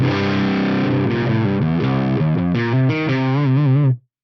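Heavily distorted electric guitar through an Axe-Fx USA lead mid gain amp model at stock settings plays a lead phrase of bending, shifting notes, loud and saturated, then cuts off abruptly.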